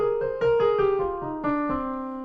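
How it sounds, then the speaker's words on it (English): A descending run of single tonal notes, evenly paced, steps down a natural minor scale. Each note rings clearly with no voices. "when put as a natural minor scale, sounds like this."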